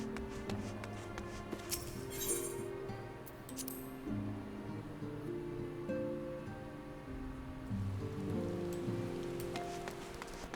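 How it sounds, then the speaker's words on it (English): Rain falling in the video game Final Fantasy XIV, a soft continuous patter beneath sustained game music tones, with occasional light clinks and no talk. "Sounds like it's raining."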